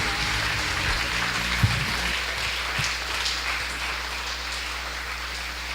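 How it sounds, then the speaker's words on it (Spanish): A church congregation claps in praise during a service, a steady wash of applause at moderate volume with a low hum beneath, continuing evenly without voices. "Dale un fuerte aplauso al Señor."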